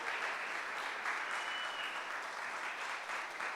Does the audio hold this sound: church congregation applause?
yes